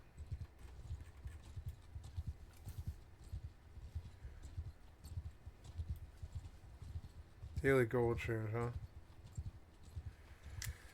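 A horse walks with steady clip-clop hooves in an MMO video game, a soft continuous rhythm running the whole time, with someone briefly talking over it.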